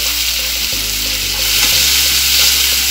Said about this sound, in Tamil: இதை நல்லா வதக்கிடணும்.